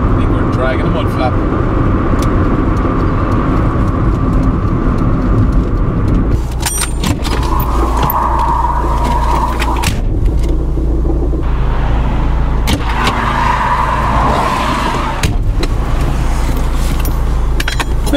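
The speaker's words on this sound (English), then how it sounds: "I think we're dragging a mud flap." A loose mud flap dragging under a moving Opel Kadett D on a winter drive, giving intermittent scraping and rattling bursts over the car's constant low road rumble from inside the cabin.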